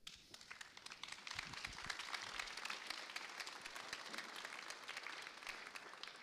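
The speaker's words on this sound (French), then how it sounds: "On peut l'applaudir." An audience at a public presentation applauds the presenter, a dense, steady wash of many hands clapping, fairly faint and distant, sustained throughout.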